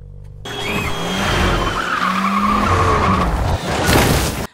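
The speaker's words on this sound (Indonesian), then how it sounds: "seketika mobil dari arah berlawanan pun hampir menabraknya" A car skids and nearly hits an oncoming car on the road: a loud, sustained tire squeal with engine roar rising and falling over about four seconds, close and dominant.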